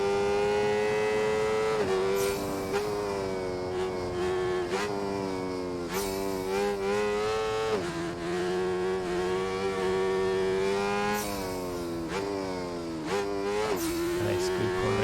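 A motorcycle engine in the racing game Ride 4 whines continuously and loudly, its pitch climbing through gears and dropping sharply at regular shifts and braking points throughout, with no voices over it.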